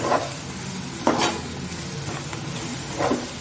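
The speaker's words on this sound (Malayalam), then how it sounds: "എല്ലാം കൂടി നമുക്കൊന്ന് മിക്സ് ചെയ്യാം" A spoon stirs masala together with fried idli pieces in a pan, three distinct scraping strokes spaced out over a steady sizzle of frying.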